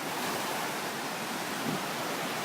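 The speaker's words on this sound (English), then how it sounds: "right now, those waves are totally awesome" Steady ocean surf rolls and washes onto the shore near a dune campsite at sunset, a broad continuous roar with no voices.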